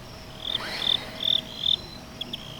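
Crickets chirp from small cracks in an outdoor wall, giving several short, high, bright trills in a loose rhythm, close and fairly clear over a quiet background.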